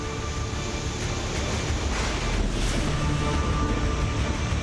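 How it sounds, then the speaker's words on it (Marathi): The Yerala river in Sangli is in flood after heavy rain, its water rushing in a steady, broadband roar that stays constant throughout without any talking. "सांगलीची येरळा नदी पावसामुळे दुथडी भरून वाहू लागली"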